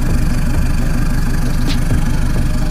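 A Toyota Innova with a switchable dual exhaust set to side exit idles nearby, giving a loud, steady low throb with a constant rhythmic pulse and no talk.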